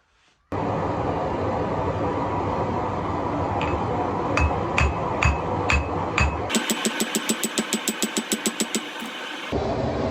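A 3.5 pound rounding hammer strikes thin knife steel on an anvil while forging a clip point skinner blade, a run of evenly spaced ringing blows over a loud roaring forge that stops at the end.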